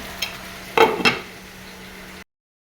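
Cauliflower curry is sautéed in a pan under a low steady hiss, with a few brief scraping knocks of a spatula stirring against the pan before the sound cuts off.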